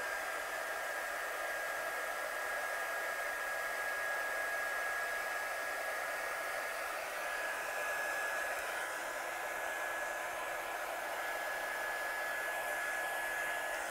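A hair dryer blows steadily on wet paint in a studio, a close, constant whooshing hiss with a thin motor whine, unbroken throughout and with no talk.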